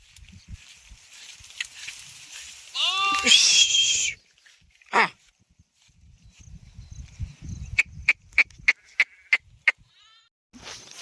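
A few bleats ring out from nearby sheep, mixed with rustling, scattered clicks and a run of sharp tapping toward the end.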